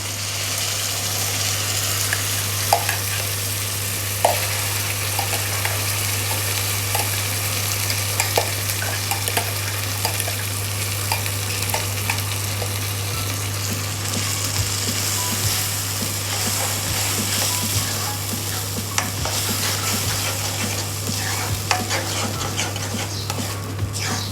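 Tomato puree and masala frying in a pan for paneer butter masala, a steady close sizzle with scattered stirring and scraping throughout, over a constant low electrical hum.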